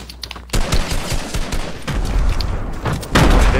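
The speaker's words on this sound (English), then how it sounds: "Oh no, they're shooting me." Rapid bursts of gunfire, including machine-gun fusillades, crackle loudly in a shooter video game. One dense volley starts abruptly and a heavier burst comes near the end.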